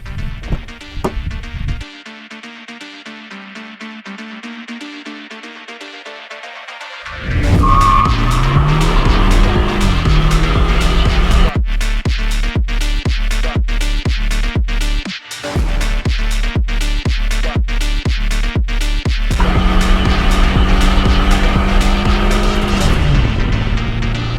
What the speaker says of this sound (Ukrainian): То що, Вадим, давай проїдемося.